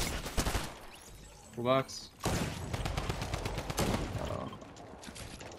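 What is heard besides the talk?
gunfire in a video game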